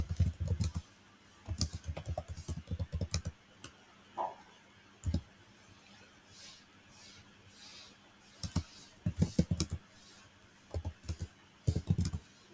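Bursts of computer keyboard typing come in quick clustered runs with gaps between, close and fairly loud, no talking.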